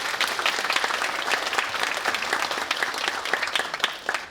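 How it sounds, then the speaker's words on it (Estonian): Steady, dense audience applause at a Muhu municipality concert in Estonia, many hands clapping together at an even, loud level for about four seconds with no speech over it. "Nii, aplaus."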